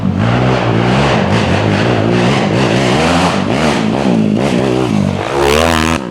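A loud Yamaha YFZ450R ATV engine revs hard through a throaty full aftermarket exhaust with an anti-reversion header, pitch climbing and dropping repeatedly, close and continuous.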